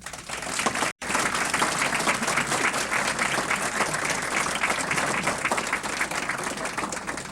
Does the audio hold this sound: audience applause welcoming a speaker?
yes